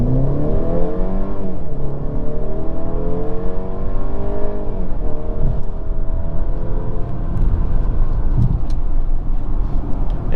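A 2022 Mercedes C300 4matic with a turbo and EQ boost accelerates hard, its engine note climbing steadily in pitch through gears over a constant road rumble, heard from inside the car.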